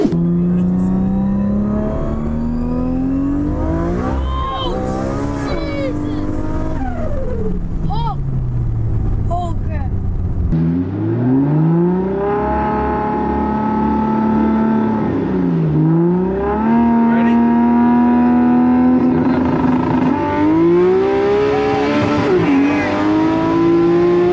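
A thousand-horsepower Toyota Supra engine revs and roars continuously, pitch climbing and dropping through repeated accelerations, loud and close throughout.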